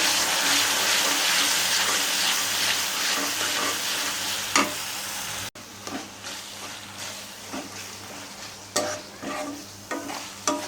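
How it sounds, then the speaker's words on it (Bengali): Onions and spices for chicken chaap fry in a pan, a steady loud sizzle with scraping stir strokes, a sharp cut midway, then a quieter hiss broken by stirring clatters. "ওই মশলাটা দিয়ে আর একটু আমার হাতে তৈরি মশলা ছিল সেটা দিয়ে একটু মশলাটা কষিয়ে নিচ্ছি"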